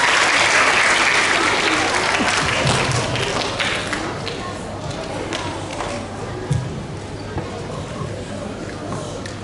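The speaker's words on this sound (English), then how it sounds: "let's give a round of applause for the beautiful assembly and the birthday wishes" Applause at a school assembly, steady and fairly loud at first, then thinning to scattered claps, with a few thuds and faint voices mixed in.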